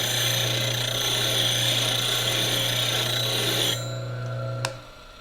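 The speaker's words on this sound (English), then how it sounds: "Lay your tool flute down on it. Bring it up. And grind the top of it." A bench grinder hums steadily while a woodturning tool is sharpened with its flute laid on the rest and the top ground, giving a constant loud whine that drops away near the end as the grinding stops, followed by a brief metallic tick.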